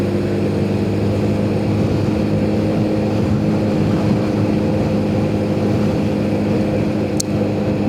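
A noisy motorbike on a road in BSD City gives a loud, steady engine drone with layered tonal hum that holds unchanged from start to finish, with no talking.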